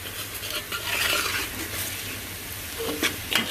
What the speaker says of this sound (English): Keep stirring it, keep scraping the sides